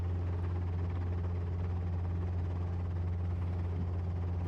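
A helicopter holds a hover on a solo flight, its steady low rotor drone and engine hum running continuously at close range, loud and unbroken with no speech.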